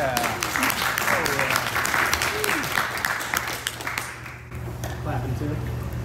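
Audience applause fills a small acoustic VIP concert in Lawrence, Kansas, with steady clapping and crowd noise throughout and some voices mixed in.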